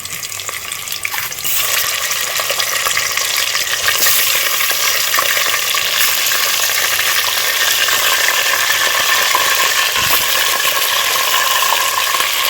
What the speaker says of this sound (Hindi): तो मैंने चिकन डाल के अच्छी तरह इसको 5 मिनट तक हल्का सा फ्राई किया।